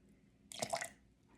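A short splash of water poured into a sourdough starter jar in a kitchen, one quick faint burst lasting under half a second against near silence.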